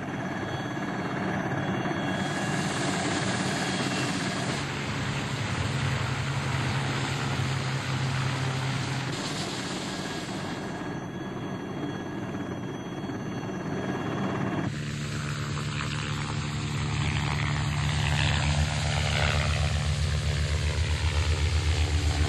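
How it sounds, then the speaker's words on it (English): A helicopter flies over woods spraying insecticide, its steady rotor and engine roar continuous and loud throughout, shifting in tone as it passes. "from a helicopter."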